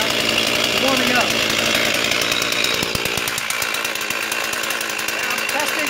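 A chainsaw running on full choke as it warms up, a loud, continuous buzzing engine drone close by, with a voice speaking over it.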